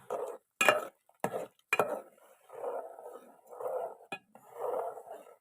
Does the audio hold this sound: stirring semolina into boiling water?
yes